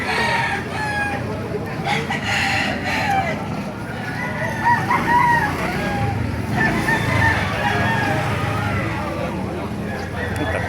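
Roosters crow through a busy chicken market in Baliuag, Bulacan, over a steady crowd hubbub, with clucking and nearby voices talking throughout.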